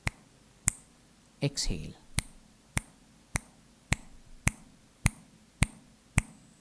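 Sharp finger snaps repeat at a steady pace of roughly one every half second through a guided breathing meditation, loud and close, with a brief spoken cue and an exhale partway through.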